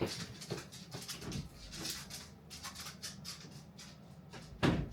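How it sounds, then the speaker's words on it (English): A pet dog whimpers and shuffles about indoors as it is let out, with soft scattered movement sounds, a few faint whines and a sharper knock near the end. "Let me let my dog out who wants to walk around."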